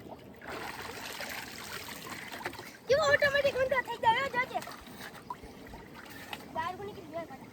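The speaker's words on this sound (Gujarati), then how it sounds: "હમણાં આખું પાણી કાઢી નાખીએ બહાર." Water being drained out near a well and tank in a farm garden, a continuous trickle and splashing that surges loudly midway, with a person talking over it.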